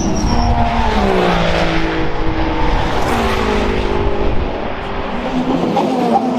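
A Toyota hybrid race car engine roars loudly with shifting pitch as it passes at Spa, rising and falling through gears, with tires and track noise underneath.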